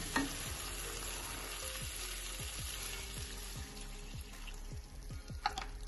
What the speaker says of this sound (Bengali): মশলাটার থেকে এরকম তেল ছেড়ে দিলে এবার এর মধ্যে আমরা দিয়ে দেব একটু দুধ